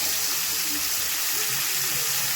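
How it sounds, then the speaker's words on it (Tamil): Tamarind extract poured into a pan of frying garlic with turmeric, a loud steady rush of hissing sizzle throughout. "அடுத்தது புளி கரைசல் ஊற்றிடலாம்"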